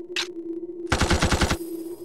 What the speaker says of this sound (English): I call it the repeater arm cannon.